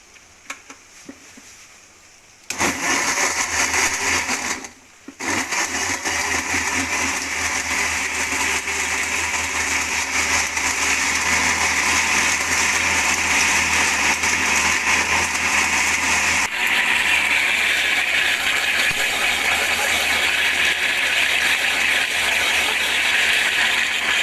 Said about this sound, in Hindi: ये हम अब अच्छे से ब्लेंड कर लेंगे।